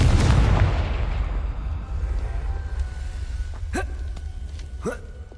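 Confringo fire spell exploding in the video game Hogwarts Legacy, a loud booming blast with a long rumbling decay, then brief gasping vocal sounds.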